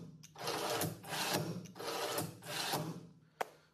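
Telescopic robot elevator with a 16 mm extension spool, driven by an 1150 RPM motor with no load, runs in four quick mechanical whirring bursts of about half a second each, close by, ending with a sharp click.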